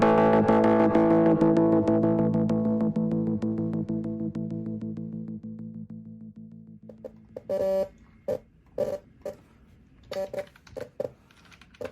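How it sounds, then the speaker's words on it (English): Musical chime tones sounding a computer data-sharing alert, a sustained harmonic chord fading over several seconds, then a run of short, sharp electronic blips and bursts alone without talk. "That sound you're hearing is your computer sharing your data with Google."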